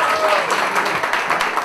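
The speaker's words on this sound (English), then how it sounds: "Let's give all of them a big round of applause," Wedding guests applaud at a reception, a loud close burst of dense clapping that carries on without a break for the whole moment.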